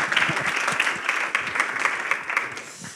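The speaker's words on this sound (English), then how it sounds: "another round of applause for our friend Lewis Bollard" An audience at an EA Global conference in San Francisco applauding, a dense, steady patter of many hands clapping at moderate distance that slowly tapers over a few seconds.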